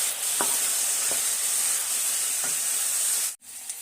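Ivy gourd pieces frying in a pan give a loud, steady hiss with a few faint knocks of stirring, then a brief sudden drop in the sizzle just before the end; no speech.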